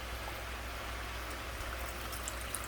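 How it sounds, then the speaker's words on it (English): About a cup of water is poured into a stir fry pan of bok choy and vegetables, giving a steady, soft hiss of splashing and sizzling. "I'm gonna add about a cup full of water in there"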